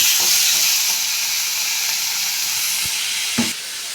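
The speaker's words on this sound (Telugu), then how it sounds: "ఇలా వేసుకున్న బెండకాయలు మళ్ళీ ఎర్రగడ్డలు పచ్చిమిరకాయలు తెల్లవాయలు ఇవన్నీ వేసుకున్నాను చూడండి ఫ్రెండ్స్ వేగిపోయినాయి" Okra, onions and green chillies fry in hot oil, a loud continuous sizzle and hiss with a couple of soft knocks from stirring near the end.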